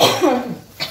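A person in a home kitchen making gongura pickle gives one close, sharp cough that trails off, followed by a brief breathy sound.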